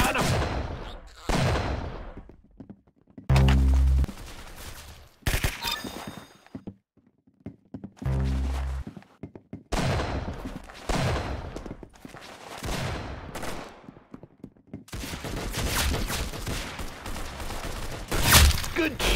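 Gunfire in the Roblox shooter Arsenal, repeated loud bursts and single shots in clusters across the clip with brief gaps, with occasional excited voices between rounds.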